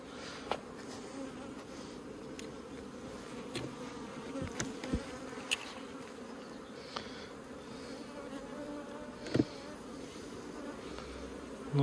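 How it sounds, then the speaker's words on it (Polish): Honey bees swarm densely around a heavy outer frame pulled from a hive during May colony splitting, a steady close buzzing drone throughout with occasional louder passes near the microphone. "Pełno pszczoły."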